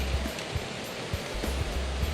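Falling water at the Chiang Mai Sticky Waterfalls in Thailand gives a loud, close, continuous broadband rush, with low thumps breaking through it and no voices.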